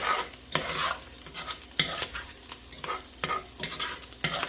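Bacon frying in a pot until crispy, a steady close sizzle broken by irregular scraping strokes of a utensil stirring it.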